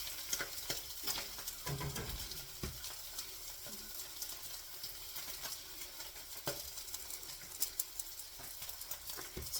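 Spam slices crisping in a frying pan give a steady, soft sizzle with small crackles and light stirring or scraping sounds, fairly close and continuous, with no talking.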